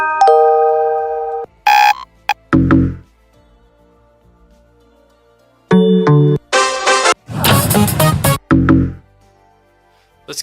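A trading-platform alert plays a series of short synthetic tones and plucked, banjo-like notes in separate bursts with silent gaps between them. The notes are loud and clear, and no voices are present.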